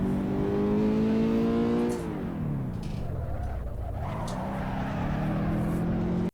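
Car engine in Assetto Corsa touge driving: a steady droning note that drops as the revs fall, then climbs again under acceleration, loud and continuous throughout.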